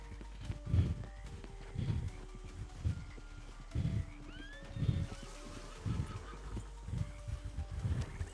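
Horse hooves clop in a slow, steady walking rhythm, about one heavy step per second, with a brief whinny-like call midway, heard fairly close outdoors.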